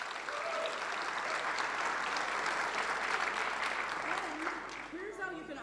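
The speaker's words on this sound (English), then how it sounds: "Give them applause." A conference crowd at React Day Berlin 2023 applauds the program committee, a dense, steady wash of clapping heard from within the hall that holds for several seconds before tapering slightly at the close.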